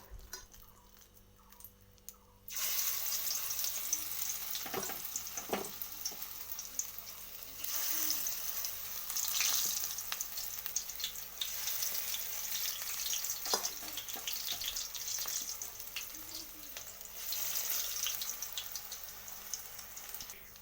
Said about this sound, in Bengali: এরপর আমি একে একে বড়াগুলো ছেড়ে দেব।